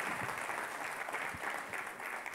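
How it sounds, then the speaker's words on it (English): Brief applause from an audience at a talk, a soft steady crackle of clapping heard faintly at a distance, with no voices over it. "an applause for him up there."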